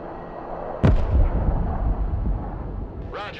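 In the video game Broken Arrow, an artillery strike opens with a sharp, loud blast followed by a rolling low rumble, and a second burst comes near the end, with a radio voice faintly under it.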